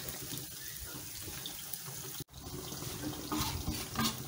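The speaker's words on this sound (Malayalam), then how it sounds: "ഇതിലേക്ക് നമ്മൾ കുറച്ച് വെള്ളം ചേർത്ത് കൊടുക്കുന്നുണ്ട്" Water is poured into a pan of chicken 65 sauce, a close splashing trickle that breaks off briefly midway, then resumes with stronger gurgling pours.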